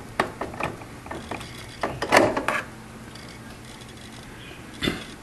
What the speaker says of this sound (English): feed the screw in underneath there, and then get the screwdriver on it and get it started